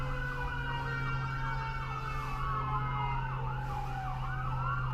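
Several wailing emergency sirens overlap and rise and fall continuously, sounding fairly near over a steady low traffic rumble, with no talking.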